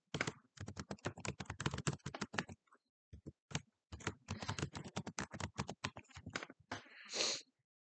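Typing on a computer keyboard to enter a recipient's email address: rapid, close clusters of crisp key clicks in bursts, with short pauses between runs and no talking.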